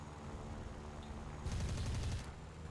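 Aircraft cannon and machine guns fire from planes in the War Thunder video game, a MiG-3-34 among them: a faint, rapid burst of rattling shots lasting under a second, layered over a constant engine drone, with no voices.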